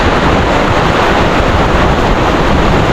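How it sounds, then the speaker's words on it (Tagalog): Loud, constant roar of strong wind buffeting the microphone, a dense rushing noise with no pauses. "lakas ng hangin"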